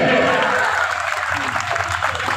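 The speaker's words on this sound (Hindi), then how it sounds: "एक बार जोरदार ताली बजाइए।" Loud crowd applause at a village welcome event for a local MLA, starting strong and continuing steadily at a slightly lower level, dense and unbroken with faint voices underneath.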